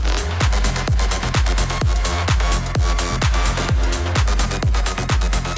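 A loud, dense club mix drop with pounding kick drums on a steady four-beat pulse, heavily master-compressed, squashed and flat in level with no dynamic breathing room.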